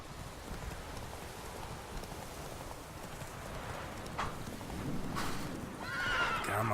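A horse in The Witcher 3 trots over steady rain-like ambience with soft clip-clop hooves, building toward a louder snort or whinny near the end. No voices.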